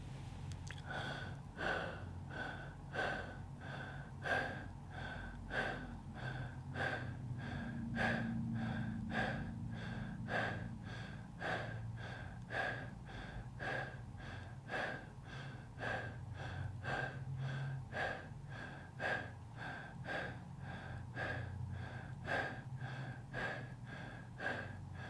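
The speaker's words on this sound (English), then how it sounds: "we will take 25 connected breaths through the mouth or nose" A person takes a long series of connected breaths through the mouth or nose during breathwork, rapid rhythmic inhale-exhale cycles repeating steadily at close range, with no speech.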